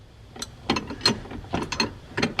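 A ratchet clicks repeatedly while a strut is tightened during a shock absorber replacement on a Mercedes Sprinter van. The bursts of sharp clicks are close and loud, come in uneven strokes, and are heard alone.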